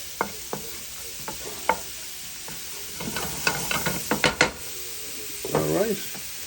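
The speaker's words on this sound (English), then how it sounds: "whenever you're sauteing or cooking on top, always use a wooden spoon" Chicken sautéing in a pot while a wooden spoon stirs it, with a constant sizzle broken by sharp scrapes and knocks of the spoon that bunch together toward the end, close and fairly loud.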